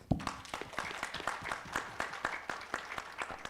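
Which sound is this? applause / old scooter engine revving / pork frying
applause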